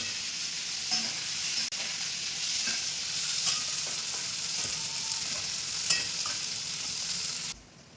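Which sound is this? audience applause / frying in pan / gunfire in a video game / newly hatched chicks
frying in pan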